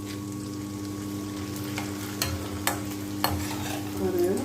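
Sun-dried murukku vathal frying in hot oil, a steady close sizzle with bubbling throughout and a few sharp crackles and pops.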